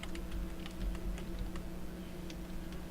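Rapid keystrokes on a computer keyboard click steadily and close up for about three seconds over a low background hum, with no one talking.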